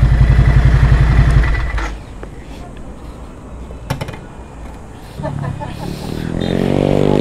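A Ducati motorcycle engine rumbles nearby during a test ride, a steady low throb that fades into clattering and scraping, then swells again toward the end.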